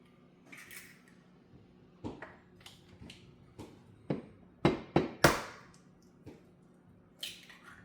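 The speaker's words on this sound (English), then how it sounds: "So now I'm going to put the 2 eggs in here." Two eggs going into a bowl of dry ingredients for sticky date pudding: a scattered series of close, sharp clinks and taps against the bowl, with a few louder knocks in the middle and quiet gaps between.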